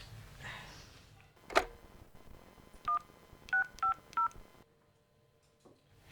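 A telephone number is dialed with a sharp click and then a short series of distinct touch-tone beeps in an otherwise quiet room.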